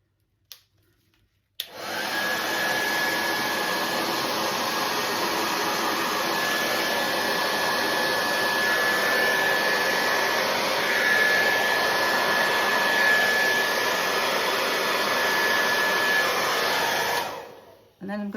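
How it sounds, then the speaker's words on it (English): A hairdryer switched on to blow paint across a Dutch pour, a loud continuous whooshing whir that starts after a brief click, holds steady for about fifteen seconds, then cuts off. "So just excuse the noise while I get my hairdryer going."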